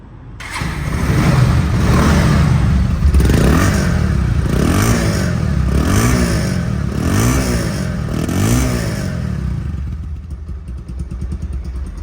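A Bajaj Pulsar ABS motorcycle engine idles steadily and smoothly up close, a loud continuous rumble with faint rhythmic pulsing that eases slightly toward the end.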